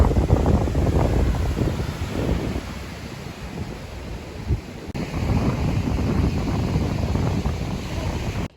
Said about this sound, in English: I don't know if you can hear the wind. It is pretty windy.